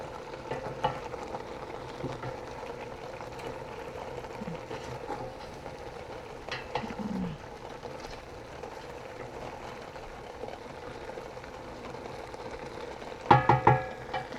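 Chicken and mackerel light soup being stirred in a pot, soft scraping and bubbling with gentle sizzle throughout, ending in a brief louder clatter of utensil against the pot.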